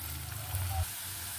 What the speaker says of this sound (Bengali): পেঁয়াজটা আমি বেরেস্তার মতো করে ভেজে নেব।